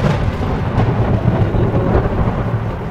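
Heavy rain pours steadily with a deep rumble of thunder rolling underneath, loud and close throughout, heard during a train journey in India.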